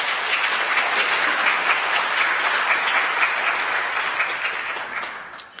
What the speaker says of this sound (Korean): 여러분들 박수로 환영해 주시기 바랍니다